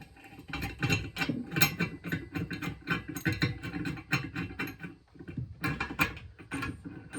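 A socket wrench ratchets as it cranks a size 21 nut on a press socket, giving a quiet, rapid series of clicking, scraping strokes in uneven bursts, close by with no talk.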